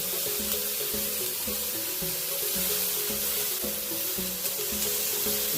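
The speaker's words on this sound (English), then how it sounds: "So I will add that in as I'm frying the rice" Rice and frozen vegetables frying in a pan, a soft continuous sizzle with low rhythmic stirring or scraping beneath it, close and fairly quiet, with no talking.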